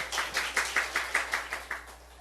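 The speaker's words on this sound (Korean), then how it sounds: "우리 하나님께 박수 올려드려요" A church congregation claps together in a steady, even rhythm of about ten claps, moderately faint and slightly distant, with no voices over it.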